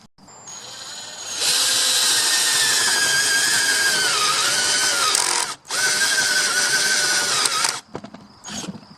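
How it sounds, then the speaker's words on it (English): A power drill whines loudly for several seconds as a 1/2 inch spade bit bores bolt holes through a wooden board, pauses briefly, then drills again before winding down. "now I'm just going to drill 1/2 inch holes to accept the bolts right here in the board"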